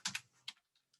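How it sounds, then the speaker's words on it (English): Quick keystrokes tap on a computer keyboard while an address is typed, a close, quiet burst of three clicks followed by a couple of fainter taps. "You start typing it in"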